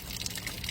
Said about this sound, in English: That controls the water coming out. Coming out of the outlet here.